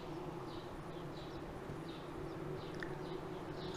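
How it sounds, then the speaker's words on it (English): Honey bees at a queenless hive make a steady, close, continuous buzzing drone with a few brief louder passes of individual bees, and no voices. "this hive that didn't have a queen has been noisy."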